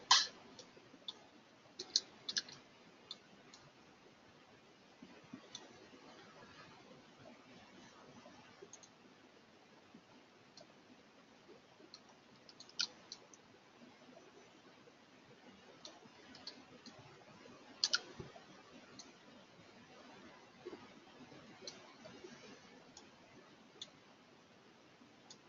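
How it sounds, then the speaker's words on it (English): A computer mouse on a side computer clicks faintly and irregularly, with scattered sharp ticks and a few small clusters over a quiet, low background hum. "If you hear clicking, it's on the other mouse on the side computers."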